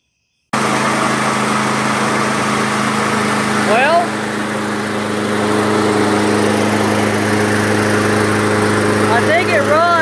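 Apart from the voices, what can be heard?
Toro PT-21 self-propelled mower engine running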